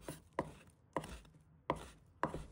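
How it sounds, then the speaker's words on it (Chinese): A knife chops meat on a board for fine mince, four sharp separate thuds spaced about half a second apart, close and fairly quiet, no voices. "切的时候尽量切得细碎一些，这样打出来的肉末才更细腻"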